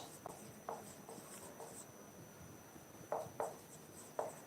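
A question is written by hand on a classroom board, with short scratchy strokes coming in quick bursts separated by brief pauses, close and clear with no talking.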